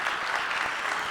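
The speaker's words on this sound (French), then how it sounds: "Plus fort, les applaudissements." Audience applause fills a conference plenary hall on cyber talent education, a steady dense wash of many hands clapping at even loudness throughout the short burst, with no voices above it.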